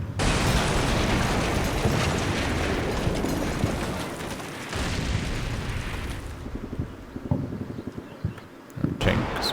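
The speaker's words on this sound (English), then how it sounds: "They're still shelling that series of buildings over there." Artillery shells exploding on buildings in the wargame Combat Mission Black Sea: a sustained loud rumble of blasts that eases after a few seconds into scattered, more distant booms and crackles.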